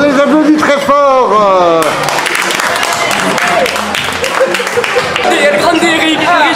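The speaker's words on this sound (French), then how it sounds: "On les applaudit très fort." A crowd gathered on Le Mourillon beach in Toulon for an 18th birthday celebration claps loudly and rapidly, with cheering and shouting voices over the applause near the start.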